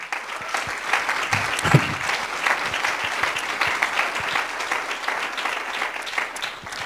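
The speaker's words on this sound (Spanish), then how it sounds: "¿Le damos un aplauso al Señor, hermanos?" A church congregation gives a sustained round of applause. Dense clapping rolls on steadily throughout, with a brief louder burst near the start.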